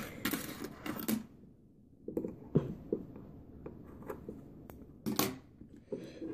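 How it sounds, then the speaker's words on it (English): Scissors snip away cotton wicking from a caterpillar-track vape coil, giving a series of short, close, crisp cuts with pauses between them. "I'm just gonna snip this off a little bit more"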